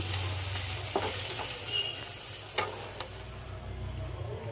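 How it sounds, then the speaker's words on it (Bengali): Drumstick flowers and garlic sizzle steadily in a frying pan, with a low continuous fry and a few sharp scrapes and knocks as they are stirred, close and fairly quiet. "এগুলো দিয়ে একদম ভাজা ভাজা করব।"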